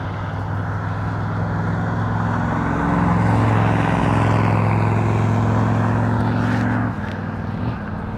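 A 1963 Chevrolet Impala engine runs steadily up close, a deep, even rumble that swells slightly partway through and then eases back, with no talking.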